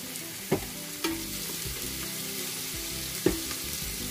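Onion and seasoning sizzle and fry steadily in a pot for ogbono soup, with a spoon knocking against the side a few times as it is stirred, up close and without talk.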